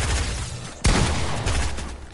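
Gunfire from the video game Fortnite, a single sharp loud shot cutting through steady game noise, followed by a sustained rumble.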